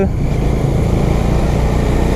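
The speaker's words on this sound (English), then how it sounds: "This engine really pulls hard after 4000 RPM" A Bajaj Dominar 250 motorcycle engine runs loud and close in a continuous, steady drone, likely under way on the road, with no talking over it.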